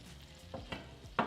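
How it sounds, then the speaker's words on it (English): Scallops hit a hot AnolonX pan in short sizzling bursts, three or four sharp crackles rising over a low steady hiss, close up and fairly quiet. "Hear that sizzle? That sizzle is great."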